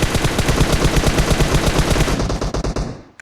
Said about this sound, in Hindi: जब मैंने फायर स्टार्ट किया और वो इधर उधर ऐसे ही फायर करने लग गया